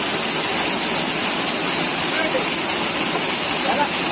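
The waterfall at Sri Amara Lingeshwara Swamy Kona near Tirupati pours with heavy force, a dense, constant close roar of falling and splashing water with no pause.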